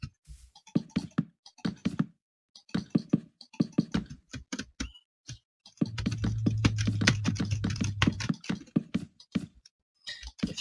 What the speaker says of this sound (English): if you guys can hear my mouse,